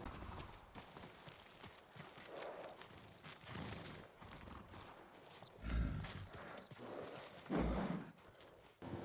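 A horse's hooves clip-clop in Ghost of Tsushima, a steady walking beat of soft thuds with a few heavier strikes, moderately near over a faint outdoor background.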